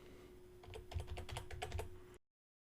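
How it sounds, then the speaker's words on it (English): Rapid clicking of keys on a computer keyboard, a short close burst of typing over a faint steady hum, ending abruptly. "I'll start typing portfolio."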